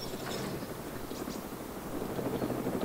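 A helicopter flies over in the DayZ video game, a steady, even rotor chop with a rattling mechanical texture that stays at a constant level for the full few seconds.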